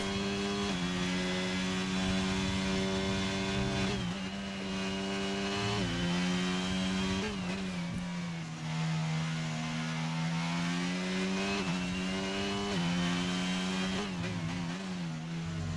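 F1 racing cars scream past in a racing video game during the Hungary round, steady high engine whine with rising and falling pitch as the cars shift and overtake, loud throughout with no talk.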